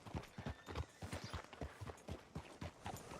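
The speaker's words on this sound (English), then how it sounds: "Hitch your horse up here." Horse hooves clip-clopping at a steady walking rhythm in the Western video game Red Dead Redemption 2, close and fairly quiet.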